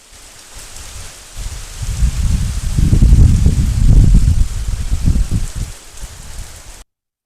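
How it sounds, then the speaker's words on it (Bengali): Heavy rain pouring down during a downpour, a dense, steady rushing roar that swells louder through the middle before easing off, close and loud, with no voices. "দেখেন কি জোরে জোরে বৃষ্টি হচ্ছে।"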